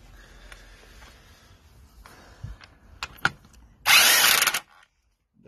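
A new screw, coated in paste, being run in on a car with a power tool: soft handling clicks and knocks, then one loud, dense whirring burst of a second or so before silence.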